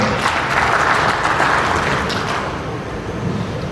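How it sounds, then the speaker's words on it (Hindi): An audience at an annual general meeting of a broiler breeders' association in Karnal, India, claps continuously, a dense, loud patter of many hands that fades slightly toward the end. "सभी भाई एक बार तालियों के साथ इनका धन्यवाद करें।"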